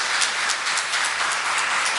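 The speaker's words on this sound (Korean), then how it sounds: "박수 부탁드립니다" Congregation clapping during a Korean church Sunday service, a continuous wash of applause at moderate level with no speech over it.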